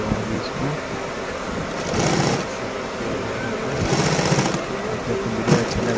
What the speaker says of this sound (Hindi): चलो दिखा रहे आप लोग कैसे सिलाई हो रहा है